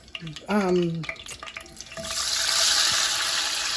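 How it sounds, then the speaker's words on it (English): Sweet pepper, onion, hot pepper and tomato sizzle in a hot pan, with stirring and clinking of a utensil at first, then a steady frying hiss building and holding. "So I'm frying up some seasonings, sweet pepper, onion, hot pepper, tomato."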